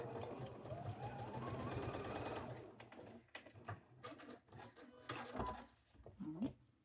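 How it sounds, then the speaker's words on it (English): A domestic sewing machine stitches a short stripe piece for a quilted bee block, running in a dense steady whir for a few seconds, then breaking into irregular clunks and knocks close by. "Machine made a funny sound."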